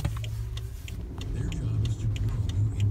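A Rolls-Royce Ghost accelerates with a low, smooth, steady engine hum from inside the cabin, rising slightly in strength, while occupants talk over it.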